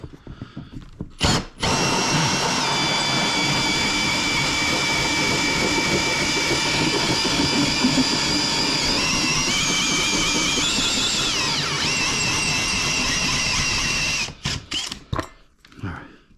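A power drill runs steadily for about twelve seconds, boring a pilot hole into a sheetrock ceiling to mark a recessed LED light cutout, loud and close, with brief clicks and bursts at the start and end.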